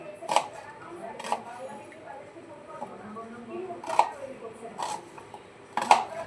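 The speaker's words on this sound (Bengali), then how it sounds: "এইভাবে মোটা মোটা করে পেঁয়াজ দুটো কেটে নেব" Sharp knife strikes on a cutting board while chopping two onions into thick pieces, spaced irregularly a second or so apart, with quiet background noise between the chops.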